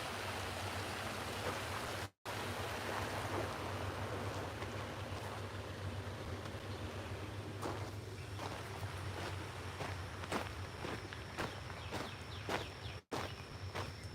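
Little Beaver Creek flows along a wooded trail, a steady broadband rushing of water heard close and continuous, with occasional footsteps and brush rustles on top.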